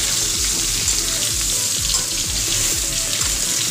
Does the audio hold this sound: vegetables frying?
yes